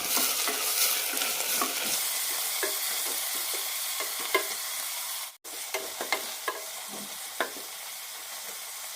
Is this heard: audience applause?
no